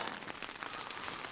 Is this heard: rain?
yes